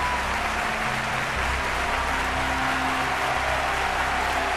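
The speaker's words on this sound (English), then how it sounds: "massive round of applause for Tri-ang" A canned applause effect: a full, even roar of many hands clapping at constant loudness for several seconds, with no voices over it.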